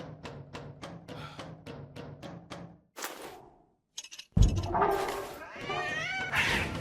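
A cat meows in the video game The Radio Tower. Several loud, drawn-out cries come right after a run of rapid, evenly spaced thumping beats and a brief silence.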